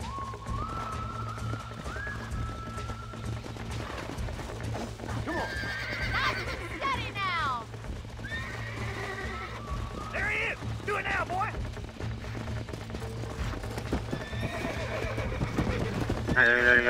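In the video game Red Dead Redemption, horses whinny several times over steady galloping hoof beats and mechanical clatter, with people talking throughout.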